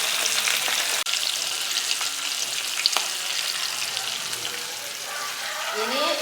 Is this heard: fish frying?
yes